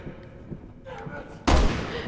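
A sharp, loud gunshot blast in the Resident Evil 6 video game lands near the end after quieter game sounds and low thuds, with a voice speaking beforehand.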